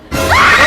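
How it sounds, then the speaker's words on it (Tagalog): A person lets out one brief, piercing scream, loud and close, rising sharply in pitch and holding at full strength until it cuts off. "Grabe ito sa lakas ng sigaw."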